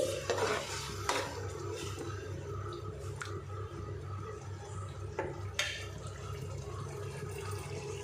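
Tomato paste frying in oil in a pan while cooking a Nellore-style fish curry, a soft low sizzle with occasional stirring scrapes and a steady low hum underneath.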